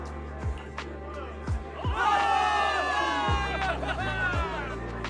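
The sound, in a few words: crowd cheering in a video game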